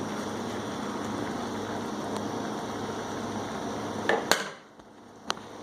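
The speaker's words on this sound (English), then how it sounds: "Alright, so we got our boil going." Milk bubbling at a rolling boil in a cooking pot, a steady broadband simmering hiss that holds evenly, then cuts off sharply with a few faint clinks afterward.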